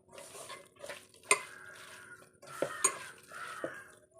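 Green chilies being stirred with coconut oil in a pan for a curry, giving a few close scraping strokes and utensil clinks against the pan under a soft sizzle.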